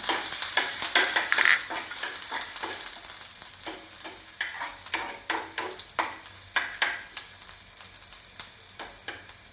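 Chopped ginger and garlic hit hot coconut oil with a loud initial sizzle, then keep frying while a spoon stirs the pan in steady, rhythmic scraping strokes.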